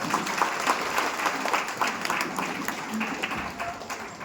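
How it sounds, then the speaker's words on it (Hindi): Loud, energetic applause erupts from an audience at a motivational talk, with dense rhythmic clapping and some individual sharp claps standing out near the front. "एक बार जोरदार तालियों के साथ"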